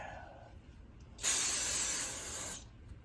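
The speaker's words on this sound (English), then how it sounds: "get some brake clean, rag" Brake cleaner sprays from an aerosol can onto Honda Helix scooter rear clutch parts in a workshop, one loud continuous hiss of just over a second, close and alone against quiet background.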